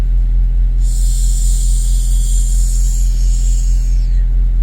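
A refrigerated semi truck's engine rumbles steadily on the road, loud and continuous, with a high whining hiss rising over it through the middle.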